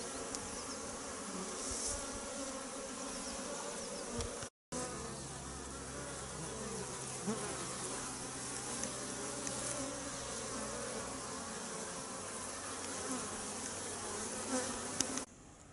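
Honeybees buzzing around hives at an apiary in February, a dense continuous hum of many insects close by, steady throughout with one brief dropout.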